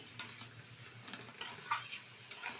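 A spoon stirs radish greens with crushed fried lentil dumplings in a pan, giving a few scraping clinks against the metal over a faint sizzle, quiet and close with no talking.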